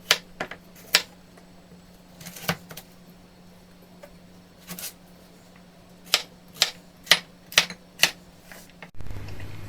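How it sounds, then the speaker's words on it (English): A kitchen knife chops carrots on a cutting board, with sharp, irregular thuds in quick clusters close up, separated by short pauses. "So we're going to quarter the carrots long ways and then chop them up."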